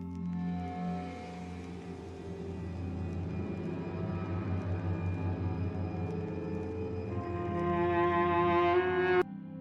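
Sustained, droning instrumental music opening a horror podcast episode, layered tones swelling gradually and ending in an abrupt cutoff, with no voices.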